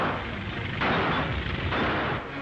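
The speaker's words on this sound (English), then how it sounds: "Gunfire!" A gunfire sound effect in an old radio serial set in a swamp, heard as a few muffled, booming shots in quick succession, fairly distant and dull, with no voices over them.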